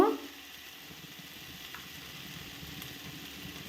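Drumstick leaf greens fry in a pan with a soft, steady sizzle while being stirred, faint and continuous throughout.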